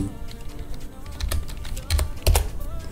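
Keyboard typing of a short English message, a handful of distinct key clicks with a few louder, heavier strikes, close and clear against a faint background.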